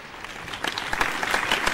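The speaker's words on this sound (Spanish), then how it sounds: "Por favor, un aplauso para ella." An audience at a show in Madrid applauds, the clapping building from scattered claps into a fuller, steady round that stays fairly loud.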